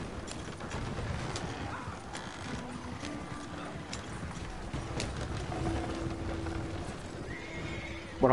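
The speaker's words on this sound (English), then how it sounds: "There's four random player horses here." Horses in a video game snort, neigh and clip-clop softly alongside scattered game sound effects, fairly quiet and close.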